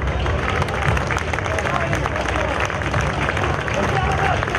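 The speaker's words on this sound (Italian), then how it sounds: "Un applauso." An audience at an evening event applauds, a dense continuous wash of clapping and crowd noise, loud and close, with voices mixed in.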